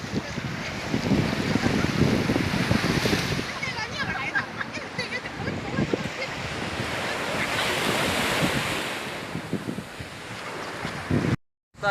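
Surf breaks and washes continuously on a Yellow Sea beach in China, with rolling swells and wind buffeting the microphone, ending in a brief cutoff.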